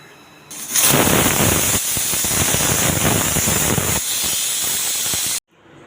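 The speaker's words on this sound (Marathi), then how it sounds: "एक शिटी फक्त करून घेणार आहे" A pressure cooker whistle blasts out steam while cooking val (field bean) khichdi: a loud, continuous hiss that bursts on suddenly, holds strongly for several seconds and then cuts off abruptly.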